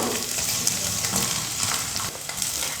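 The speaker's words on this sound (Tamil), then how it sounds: "இப்போது எடுத்துருக்கிற இஞ்சி, பூண்டு, வெங்காயம், பச்சை மிளகாய் இது எல்லாத்தையும் சேர்த்து ஒரு 2 நிமிஷம் நல்லா வதக்கிக்கிறேன்" Ginger, garlic, onion and green chilli sautéing in hot oil for donne biryani, a steady close sizzle and crackle running throughout with faint stirring movement and no voices.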